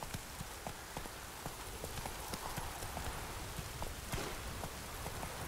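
Roach, Geralt's horse in The Witcher 3: Hearts of Stone, gallops with a steady, quick clip-clop of hooves over continuous rain pattering on the ground, fairly close and moderately loud.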